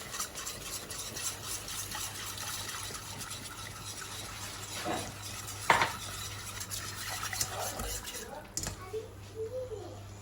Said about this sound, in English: Then we're going to go in with a cup of milk, gradually adding it and keep on stirring to avoid the lumps.